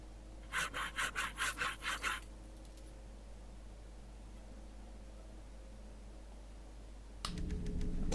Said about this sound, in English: we can open this thing up because we've got the hacksaw